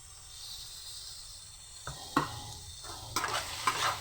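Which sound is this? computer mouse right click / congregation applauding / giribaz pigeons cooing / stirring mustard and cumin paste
stirring mustard and cumin paste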